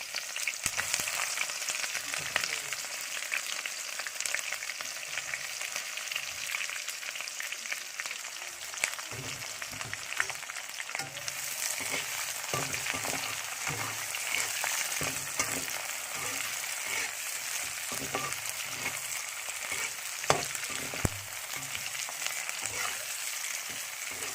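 Onions and two bay leaves sizzle steadily in hot oil for an Assamese chicken curry, a dense continuous crackle with occasional louder pops and faint stirring, no voices.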